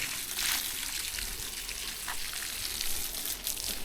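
Water poured over pea plants and other garden plants during watering, a steady broadband splashing and trickling hiss that runs continuously and fairly close throughout, with no talk.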